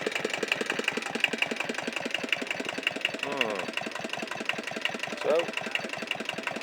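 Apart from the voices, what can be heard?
small Kubota stationary diesel engine running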